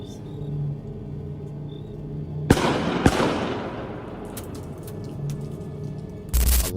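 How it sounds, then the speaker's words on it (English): Two sharp gunshots crack close by in the woods, each one echoing off the trees at a campsite with a van. A low ambient hum runs underneath, and a thump is heard near the end. "A loud gunshot rang out nearby, instantly shattering the silence."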